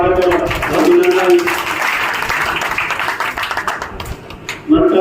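A crowd at a BJP election campaign rally for a candidate applauds loudly and steadily, the dense clapping thinning out toward the end as a voice breaks in.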